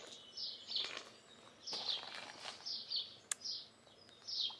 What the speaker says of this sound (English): So they're still singing now, but I think pretty much the sun is up and dawn chorus has finished.